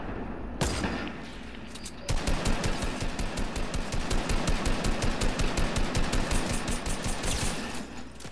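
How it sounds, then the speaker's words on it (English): Sustained automatic gunfire in a shooter video game: a single shot, a pause, then a long rapid stream of evenly spaced, loud, sharp reports that tails off at the end. "Somebody shooting at me."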